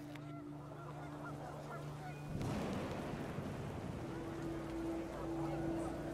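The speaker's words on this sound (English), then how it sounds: "panicked geese appeared and quickly went" Video game sound from What Remains of Edith Finch: geese honk in the distance over a low steady drone, then a rush of wind or rain noise swells and continues.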